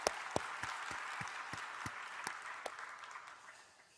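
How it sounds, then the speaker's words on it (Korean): A church congregation claps together during a Friday evening sermon, quiet and somewhat distant, a dense patter of many hands with a few sharper claps standing out, fading gradually toward the end. "박수 한번 쳐야 돼요."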